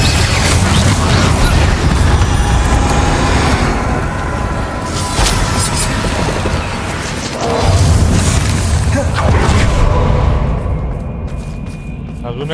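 Attack spells from Hogwarts Legacy, including fire and blasting curses, detonate in a relentless loud barrage of booms and bursts, overlapping into a continuous roar with brief dips between volleys.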